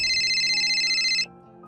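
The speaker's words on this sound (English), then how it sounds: "Then my phone rang." A phone ringtone sounding loud and close as a steady electronic trill, then cutting off abruptly about two-thirds of the way through, leaving a quiet background.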